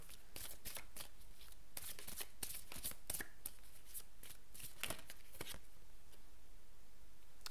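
Tarot cards being shuffled in steady, crisp riffling bursts that repeat through the whole stretch, close and moderately loud, with no talking over them.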